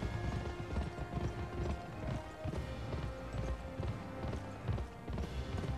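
Horse hooves galloping in the video game Gun, a steady rapid clip-clop running continuously and fairly close, with game music and ambience layered underneath.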